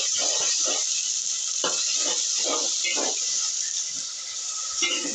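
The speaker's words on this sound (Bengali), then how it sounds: "এই দেখেন আমি এখন আদা রসুনগুলো ভাজছি।" Ginger and garlic fry in a pan with a steady high sizzle, broken by repeated scraping strokes of stirring at close range.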